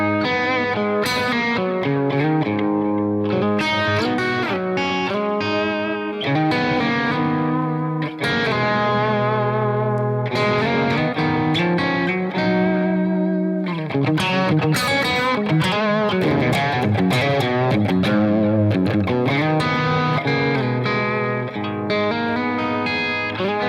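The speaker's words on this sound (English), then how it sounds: "that's how you can get sounds like this if you're adding just the delay" An electric Fender Telecaster played through a delay effect, with sustained, echoing notes and chords in a continuous, ringing phrase lasting over twenty seconds, close and loud with no talking.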